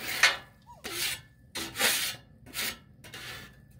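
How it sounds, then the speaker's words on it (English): Rhythmic scraping of a spatula across a griddle to clear off sauce after cooking tofu, five distinct raspy strokes in a steady back-and-forth pattern, close and clear. "Excuse me while I scrape off all the sauce."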